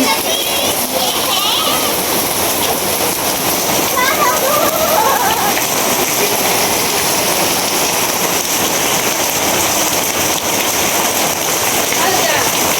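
Heavy rain pours down in a loud, unbroken hiss of falling water across the whole stretch, while people talk over it.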